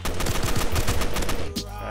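Rapid automatic gunfire in Fallen Survival, a close, loud burst of rhythmic shots lasting over a second before cutting off, with no talk over it.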